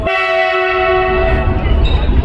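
The Bareilly-Indore Weekly Express, a passenger express train at Agra Fort railway station, sounds a loud, sustained horn close by, followed by rumbling railcar noise as the horn fades.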